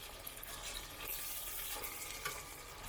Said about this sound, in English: I'm going to saute these onions